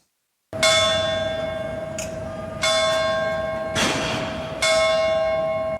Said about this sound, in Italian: Il rintocco delle campane